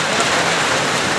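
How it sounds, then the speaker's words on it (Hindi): Steady, heavy rain pouring down in Doda, Jammu and Kashmir, a dense continuous hiss close by with no pauses. "बारिश"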